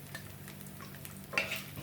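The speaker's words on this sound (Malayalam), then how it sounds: "എനിക്ക് തേങ്ങാക്കൊത്തിട്ട് വറുത്തിടാം." Coconut pieces frying in two tablespoons of ghee for a cherupayar parippu payasam, a quiet steady sizzle with soft stirring scrapes and a small clink near the end.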